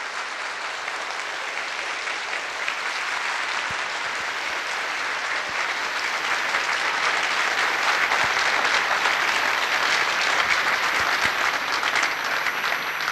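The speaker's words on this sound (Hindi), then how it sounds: "और बजती रहे ये तालियां" Sustained audience applause at the first-anniversary celebration of Radio Madhuban, a dense continuous clapping that holds steady and swells slightly, with no talk over it.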